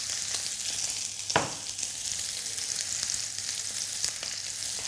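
Meat sizzling steadily in a hot pan, seasoned with salt and pepper and cooked briefly to stay rare, with a sharp pop near the start and a continuous bright crackle throughout.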